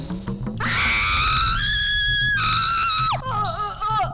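A woman screams in a Hindi TV comedy scene: a loud, shrill, sustained cry that shifts pitch partway through, briefly breaks, then resumes with a wavering tone, close and alone for about four seconds.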